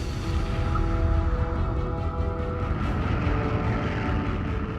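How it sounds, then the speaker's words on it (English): A long-range propeller aircraft in flight over shipping routes gives a steady droning engine roar with a low throbbing hum and faint whine, loud and continuous with no voices. "New models of long-range aircraft now provide aerial coverage of shipping routes."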